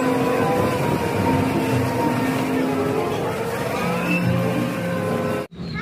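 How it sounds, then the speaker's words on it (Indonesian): A wheel loader's diesel engine runs steadily at a roadworks site, a loud, continuous drone close by that cuts off abruptly near the end. "Wow, ini ada loader."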